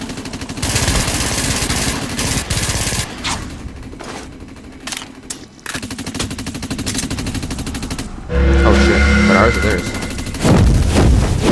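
Automatic gunfire in the shooter game Dust 514: rapid, loud bursts that run in long streams with brief gaps, close and dense, and someone speaks briefly over the shooting.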